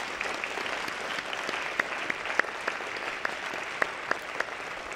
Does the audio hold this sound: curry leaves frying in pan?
no